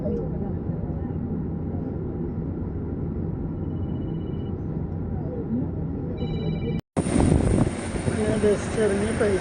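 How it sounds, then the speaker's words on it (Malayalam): An IndiGo airplane's engines hum and roar steadily at an airport in the rain, continuous and moderately loud. Voices talk over it, and after a short cut the roar returns brighter and louder. "ബസ് ഇറങ്ങി ഫ്ലൈറ്റിൽ കയറാൻ പോവുകയാണ്"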